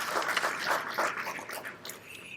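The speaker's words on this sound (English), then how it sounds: "Let's give them a big round of applause as well." Guests at a Kiwanis Club of Altoona installation and awards banquet give a round of applause, a moderate wash of many hands clapping that slowly thins toward the end, with no talk over it.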